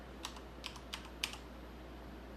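Four distinct keystrokes on a Thermaltake X1 mechanical keyboard with Cherry MX Silver switches, quiet crisp clicks spaced unevenly over a low steady hum.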